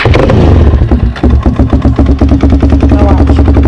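A Kawasaki KFX400 ATV with a burnt-up clutch idles in neutral, a loud, close, steady chugging engine rumble with a rapid, even pulse and slight mechanical clatter throughout.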